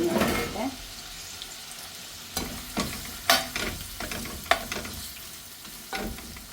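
Sliced onions fry in a pan while being cooked down for a beef roast, a steady sizzle broken by periodic loud spatula scrapes and knocks against the pan, close up, with a brief louder burst at the start.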